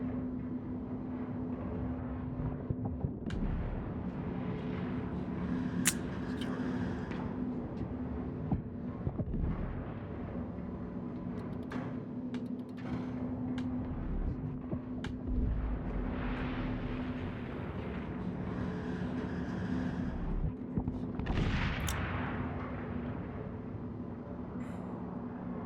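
Muffled explosions in the game INSIDE, deep booming thuds and rumbling blasts that recur irregularly over a heavy, continuous low drone, with no talk.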